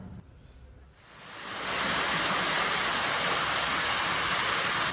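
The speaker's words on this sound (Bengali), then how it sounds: "আর এদিকে বৃষ্টিও নেমে গেল" Rain comes down after a morning of cooking luchi and mixed vegetables, swelling from quiet into a loud, dense, continuous hiss that fills the space.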